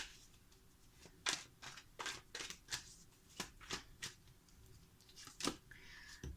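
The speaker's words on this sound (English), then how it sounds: "I'm gonna shuffle again." Tarot cards are shuffled close up in a series of quick riffling bursts, each a short papery flutter, with quiet pauses between.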